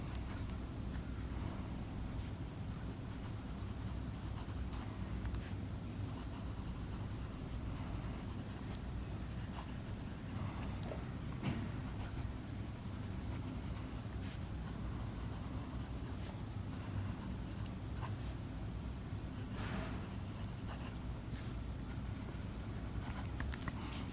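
An Airmail Wality 71JT fountain pen filled with Lamy blue ink writes on paper, a soft continuous scratching and rubbing of the nib that goes on steadily throughout, close and quiet, with no talk.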